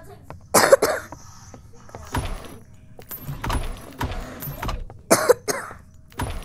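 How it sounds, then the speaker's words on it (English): A person coughs in several sharp, separate bursts with short pauses between them, close and fairly loud, with a little faint talk and rustling in the background. "Why am I keep coughing?"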